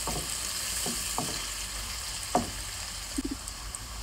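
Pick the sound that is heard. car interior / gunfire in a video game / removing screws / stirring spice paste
stirring spice paste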